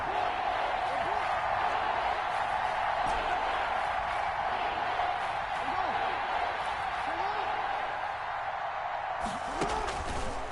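A packed crowd roars steadily through an Eagles versus Washington football game ahead of a big third down, a continuous broad wash of noise under a commentator talking.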